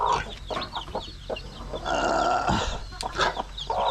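Chickens on a Filipino farm clucking and calling close by, several overlapping birds with bursts of squawking and a longer drawn-out call in the middle, over faint background noise.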